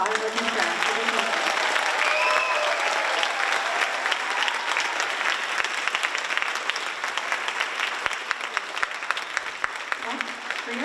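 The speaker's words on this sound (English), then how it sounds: "can we get a huge round of applause for the orchestra?" Loud, sustained audience applause for the orchestra at a Kuchipudi dance recital, a thick continuous patter of many hands that stays strong throughout, with some crowd murmur underneath.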